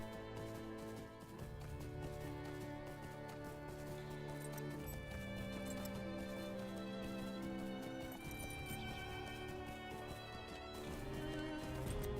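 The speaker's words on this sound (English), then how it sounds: "then take the fast travel horse" Horse hooves galloping steadily during fast travel in Lord of the Rings Online, a continuous clip-clop rhythm under a layer of tonal in-game music, moderate and even throughout.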